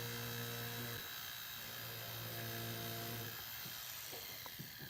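A rotary burr drilling while a necklace is made whines in a thin, steady high-pitched drone with shifting tones, briefly dipping and resuming, faint and close.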